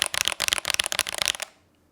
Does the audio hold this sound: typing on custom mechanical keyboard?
yes